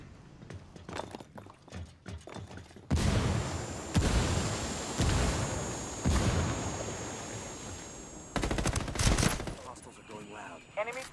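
Gunfire in the video game Ghost War, with bursts of rapid shots and sharp single cracks over several seconds, moderately loud, after a stretch of lighter clicks and footsteps.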